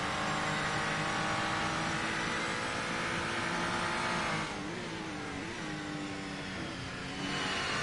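Race cars in the Assetto Corsa racing game roar at steady high revs, one engine note shifting and dropping midway as they power through a sequence of curves, loud and continuous.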